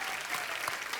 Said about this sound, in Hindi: जोरदार तालियां युवराज जी के लिए।